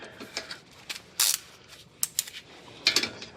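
A 14mm ratcheting wrench works a nut on a front brake bolt of a 1999 Acura RL. Several short bursts of clicking and metallic ratcheting come up close, with quiet gaps between them.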